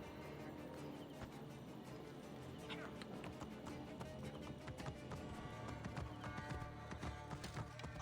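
Horse hooves beat in a steady clip-clop gallop in the video game Assassin's Creed Origins, set against a dense, continuous bed of game music and ambience with occasional louder accents.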